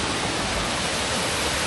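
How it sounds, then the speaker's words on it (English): A waterfall beside the Timberline Trail on Mount Hood gives off a steady, even rushing roar that fills the whole short stretch, with no voices over it. "I'm looking at the falls, it's so pretty"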